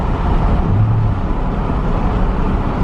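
Steady, loud low-pitched drone from a 2011 Chevrolet Silverado fitted with a Stainless Works cat-back exhaust, running close by with a constant resonant rumble and no talk.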